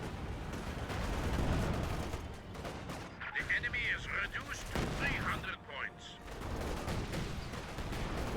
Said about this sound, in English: You got a Katusha barrage coming in on the Maxim.